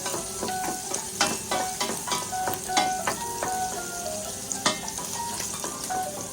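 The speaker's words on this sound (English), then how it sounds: "So we have to saute it." Aromatics for a tomato pasta sauce saute in a pan with a steady close sizzle, broken by regular clinks and scrapes as a utensil stirs against the pan, without talk.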